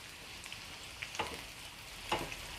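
Chopped onions fry softly in a pan for a dhaba-style chicken curry, a steady faint sizzle with a couple of brief stirring clinks.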